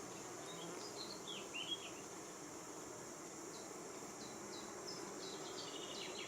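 Honey bees hum faintly and continuously in an open hive while the frames are being inspected, a soft, even drone in a quiet outdoor setting with a few bird chirps scattered over it.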